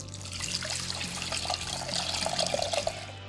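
Water poured into a cooking pot to make a brine of salt, sugar, chili powder and garlic, a steady trickling splash running for a few seconds, close and moderately loud.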